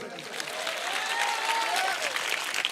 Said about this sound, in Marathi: आणि आता जोरदार टाळ्या होत्या मायासाठी.